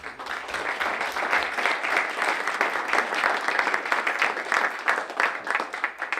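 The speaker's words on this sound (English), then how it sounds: "So how about a round of applause for all those people?" Steady, dense applause from a crowd at a Chamber of Commerce legislative reception, loud and sustained for several seconds with no break.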